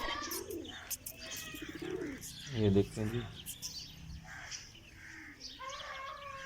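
Pigeons kept at a farmhouse coo close by, several soft rolling calls with a few chirps, heard under someone talking.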